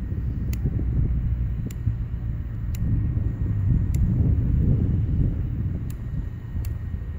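Wind blowing outdoors at night, a steady broadband rumble buffeting the microphone throughout, with faint periodic ticks above it and no talking.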